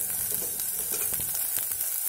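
Tempering spices and onions frying in a pan, a continuous close sizzle with faint stirring scrapes, no voices.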